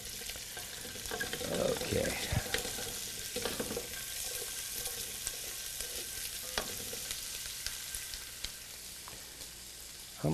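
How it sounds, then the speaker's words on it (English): Pancetta sizzles steadily in a hot frying pan, a dense crackling hiss with occasional stirring scrapes; a voice briefly speaks. "You want to hear the sizzle?"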